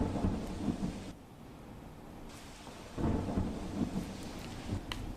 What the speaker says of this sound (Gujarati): અમરેલીના રાજુલા પંથકમાં ધોધમાર વરસાદ વરસી રહ્યો છે